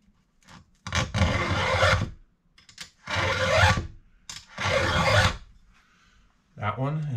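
An Oregon EXL chain on a chainsaw bites through wood in three long raspy cuts of about a second each, separated by short pauses, loud and close with a gritty, rough edge.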